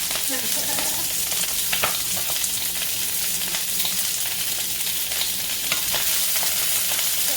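Coarsely chopped green onions sizzle loudly in a hot pan for veggie lo mein, a dense continuous crackle with occasional stirring scrapes throughout.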